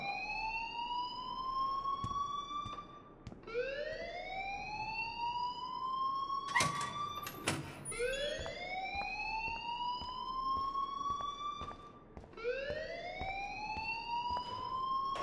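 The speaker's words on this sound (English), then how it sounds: "please turn off that alarm since that's your job" Alarm ringing in the game Life is Strange, a loud repeating rising whoop cycling every few seconds, with brief sharp metallic clanks partway through and no talk.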